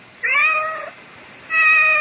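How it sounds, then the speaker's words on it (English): A cat in a radio drama gives two clear, drawn-out meows, the first fading out and the second rising after a short silence, close and alone with no talking. "I seem to have this cat."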